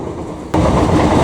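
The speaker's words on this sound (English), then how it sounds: "this is the Midland Mainline Railway" Train on the Midland Main Line between Derby and Nottingham, its rumble abruptly getting louder halfway through and then holding as a steady, close, broadband roar of rolling wagons.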